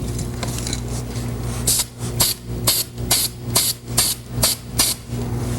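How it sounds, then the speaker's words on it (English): Aerosol spray paint hissing onto a test panel in short repeated bursts, about eight evenly spaced sprays over a low steady hum, close and fairly loud. "let's spray a little test panel first just to make sure that everything's working properly"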